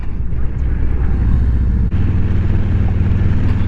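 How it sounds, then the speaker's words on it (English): A Harley-Davidson Road Glide motorcycle on the road gives a loud, steady engine rumble with wind noise, dipping briefly midway and then carrying on. "Going for a little ride on the road glide."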